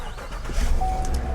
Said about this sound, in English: of course the truck cranks and runs